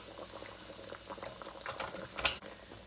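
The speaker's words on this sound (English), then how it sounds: "that pan is hot. It's so hot, it's starting to boil it" Liquid in a very hot pan bubbles and boils while a pot roast is cooked, with quick close popping and spattering that builds to a sharp burst near the end, and nobody talks.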